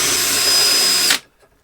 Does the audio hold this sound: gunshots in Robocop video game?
no